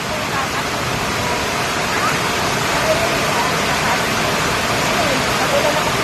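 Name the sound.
heavy rain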